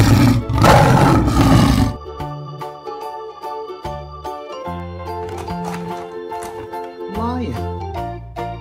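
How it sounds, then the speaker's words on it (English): A toy tiger gives a loud electronic roar that lasts about two seconds. A stretch of bright, tonal toy music follows it. "Tiger."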